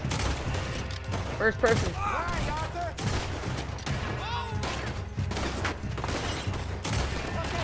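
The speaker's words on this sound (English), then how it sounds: "Let's do a first-person shootout, boys." Dense first-person shootout gunfire from Red Dead Redemption 2, with overlapping shots, booms and ricochets running continuously, while a voice briefly talks over the shooting.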